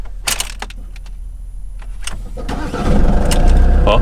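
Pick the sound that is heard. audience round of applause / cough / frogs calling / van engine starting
van engine starting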